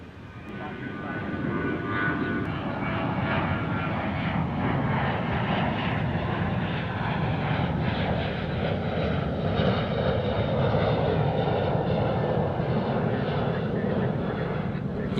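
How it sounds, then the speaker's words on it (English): A Cessna Caravan turboprop at DFW airport, a loud broad engine roar that swells and holds throughout, with people talking nearby. "The old Cessna Caravan"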